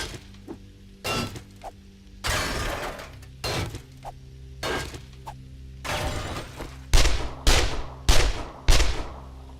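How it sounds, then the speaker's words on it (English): Warning gunshots ring out in 7 Days To Die, a series of roughly ten separate sharp cracks with uneven gaps between them, the last few louder and closer together, with no speech. "We'll fire a few warning shots."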